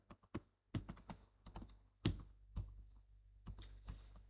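A computer keyboard is typed on in quiet, uneven bursts of crisp key clicks, with short pauses between runs and no voices.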